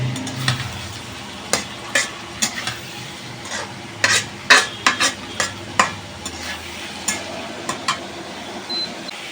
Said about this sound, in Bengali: কারণ কি এইখানে পেঁয়াজ এবং মাংসটা একসঙ্গে ভেজে নিচ্ছি